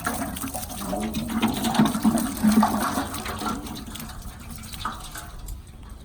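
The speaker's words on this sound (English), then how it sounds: "we're just going to water the entire root zone of our 3-in-1 olive" Water pours and gushes steadily onto the soil around the root zone of a potted, grafted 3-in-1 olive tree, now a 4-in-1, with a fairly close, continuous splashing flow that tapers off slightly toward the end.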